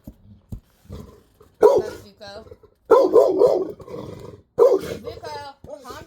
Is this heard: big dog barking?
yes